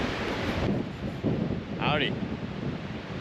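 Strong gusting wind at a campsite buffets the microphone in a steady roar, while a person speaks a brief greeting partway through.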